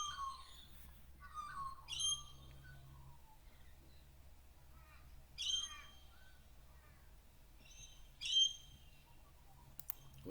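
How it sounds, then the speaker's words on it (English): Birds call outdoors in short bright bursts every few seconds, with chirps and squawks over a steady low rumble; no one speaks. "these birds in the background are pleasant to hear"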